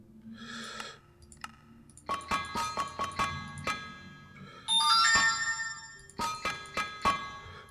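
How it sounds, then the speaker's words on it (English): A phone rings with a melodic chiming ringtone: bright repeated ding-like notes in short bursts and a sustained chord in the middle. It sounds close and clear, with no speech over it. "something is ringing in my phone"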